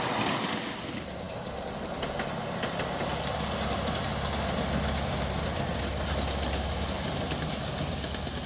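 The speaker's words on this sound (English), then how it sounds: "coming around the curve is a locomotive that I know inside and out. That is a Millbrook Railroad ES2500." A Millbrook Railroad ES2500 live steam locomotive at a live steam meet rolls around a curve, giving a steady mechanical chuffing and rumbling with rapid knocking rhythm, moderately close and continuous without talk.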